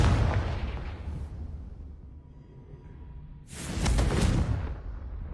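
A Confringo fire spell blasting in Hogwarts Legacy, two loud, broad bursts with a rushing whoosh, the first fading out over about a second and the second arriving a couple of seconds later, with a low rumble in between.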